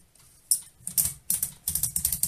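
Platen knob of a 1924 Erika Model 4 German folding typewriter turned by hand, giving a run of close, crisp clicking ratchet ticks that grow into a steady rapid rhythm.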